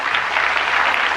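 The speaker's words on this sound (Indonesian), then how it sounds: "Berikan tepuk tangan yang meriah." Brief burst of church congregation applause at a sermon on honouring father and mother, a dense, steady wash of many hands clapping with no voices.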